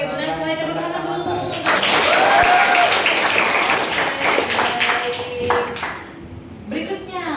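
Classroom students clap together to praise a correct answer, a burst of mixed applause under a teacher's voice, rising quickly and fading after several seconds.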